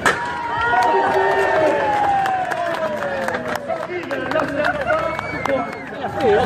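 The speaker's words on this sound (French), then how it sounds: "On peut l'applaudir très très fort." Spectators at a soapbox derby race in Ajaccio applaud a driver amid an outdoor crowd; scattered claps sound over steady babble and a gliding tonal sound, with talk throughout.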